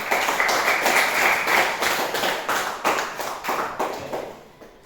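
A classroom of students claps for a classmate named Sandra, giving brisk, fairly rhythmic rounds of close clapping with distinct beats. The clapping fades out toward the end.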